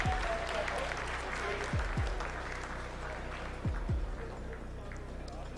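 Clapping from staff in ISRO mission control during the Chandrayaan-3 moon landing descent, a moderate ongoing patter with a steady electronic hum underneath, a few low thumps and some voices mixed in.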